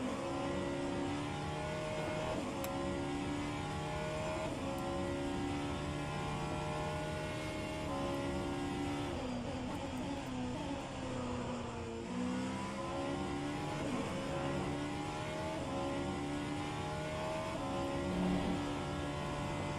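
Vanwall hypercar engine in a racing game at Watkins Glen, revving steadily with rising and falling pitch sweeps, loud and continuous throughout with no talking.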